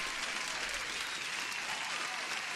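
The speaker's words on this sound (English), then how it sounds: "Applause for everyone." Steady applause from a live-stream audience runs evenly and fairly quietly throughout, a dense wash of clapping with no pauses.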